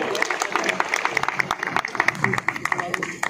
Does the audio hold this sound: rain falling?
no